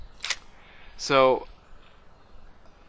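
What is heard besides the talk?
DSLR camera shutter during 1.3-second exposure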